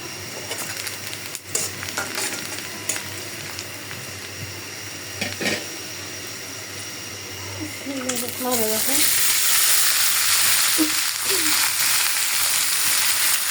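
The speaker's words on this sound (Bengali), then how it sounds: "এটাতে করলাগুলো ভাজি করে ফেলবো।" Bitter gourd slices fry in a pan with a steady oily sizzle that swells much louder about two-thirds through, with a few scraping stirs and a brief faint voice-like murmur.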